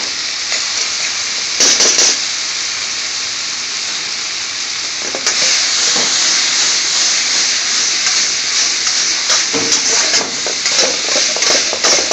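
Turmeric (haldi) and chili powder sizzling in a frying pan for an Indian restaurant-style beans and potatoes dish, a loud, continuous close hiss that swells midway, with occasional scraping stirs and no talk.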